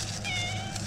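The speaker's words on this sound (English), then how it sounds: "He's a good kitty." A cat meows once outdoors, a single drawn-out meow heard close up against steady background noise, with no speech.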